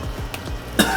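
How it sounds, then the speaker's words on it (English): A single sharp cough bursts out near the end, close and loud, after a stretch of quiet kitchen background. "that's a good cough though"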